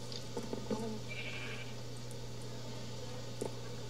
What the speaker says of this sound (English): There's only one sheep right there.